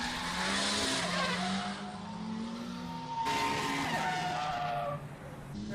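Drift cars in a tandem drift battle chase, tyres screeching in long continuous squeals over roaring engines, loud and sustained with rising and falling pitch as the cars slide through the corner.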